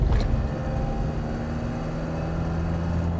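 A Mahindra Scorpio N accelerates with an extra abnormal noise on top of its engine note, a steady low droning hum with a faint tonal whine layered over it, loud and continuous inside the cabin, no talking.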